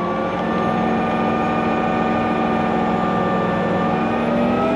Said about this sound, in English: I'm gonna turn my RPMs up.